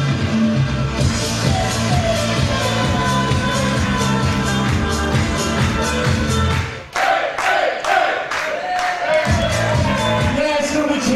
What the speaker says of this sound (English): Yeah, it's gonna be cheering.